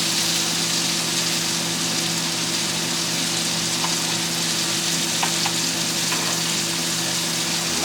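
Scallops sear in a hot frying pan with a steady, loud, close sizzle that holds without pause, with faint pops and crackles now and then and no talking.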